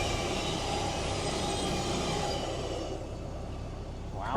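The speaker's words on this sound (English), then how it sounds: "How long is this train?" A long train rumbles past a canal mooring, a loud continuous roll of wagons that eases toward the end as it moves off, with no talk.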